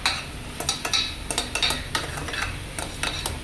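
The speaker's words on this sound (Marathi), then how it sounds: "आता हे सगळं व्यवस्थित आपण मिक्स करून घ्यायचं आहे" Spoon stirring tomato chutney with finely chopped coriander in a pan, a steady run of close scraping strokes against the metal over a soft sizzle, with no voices.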